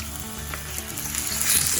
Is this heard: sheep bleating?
no